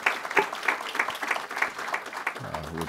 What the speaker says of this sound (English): Let's give Todd another big round of applause, won't you, please?